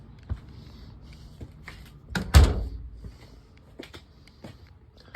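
A basement door is handled, with scattered small clicks and knocks, then one louder thudding bang of the door moving, followed by faint rattles and taps.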